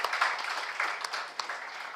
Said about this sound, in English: let's give a huge round of applause for the positivity we have created here